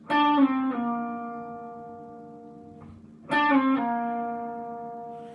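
Two sustained electric guitar notes from a song intro, each picked and then sliding down in pitch before ringing out and fading, with a short pause between them.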